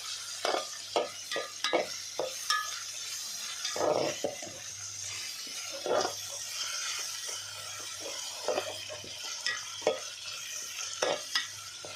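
Onions fry under a lid in a pan, with a steady, close sizzle that carries all the way through and a few scattered clicks and stirring knocks on top.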